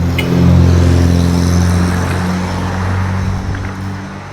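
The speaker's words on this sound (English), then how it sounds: "that's a cool ass car" A car drives past on a town street in Koprivnica, Croatia, its engine loud and close with a steady hum that swells and then fades slightly.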